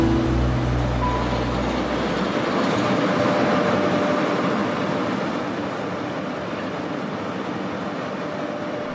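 The Golden Eagle Trans-Siberian Express rolls along the tracks with a steady, loud rumble and dense rattling, a continuous wash of rail noise throughout with no voices.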